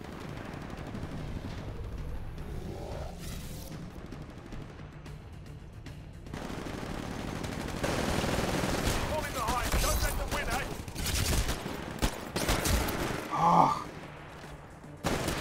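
Smart pistol fire in the shooter game Titanfall, bursts of quick shots mixed with other game explosions and gunfire throughout, with a brief spoken exclamation over the action.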